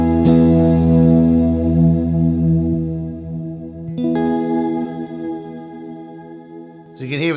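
Sustained guitar chords through a Walrus Audio Sloer reverb pedal with modulation, shimmering and wavering as they decay, a second chord struck midway, ending in a warbling swell.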